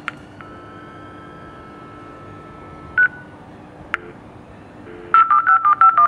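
A building intercom dials a flat's number, sounding single DTMF digit beeps, a few spaced tones and then a fast run of short beeps at the end, clear and close over a low steady hum.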